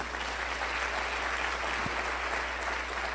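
Sustained applause from a church congregation during a sermon, a dense and even roar of many hands clapping throughout with a low hum beneath.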